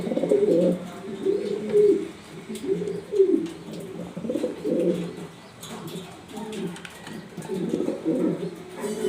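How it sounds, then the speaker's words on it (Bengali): A German Beauty pigeon in spangle colouring coos close by, deep throaty rolling calls repeating in steady bursts, with faint chirps and soft background noise. "এটা আমার কবুতর"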